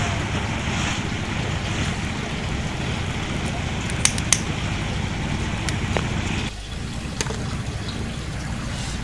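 A motorboat crosses open water between Rawa Jitu and Tanah Merah, its engine drone and waves sloshing in a steady, loud wash under heavy wind buffeting the microphone, with a few sharp knocks.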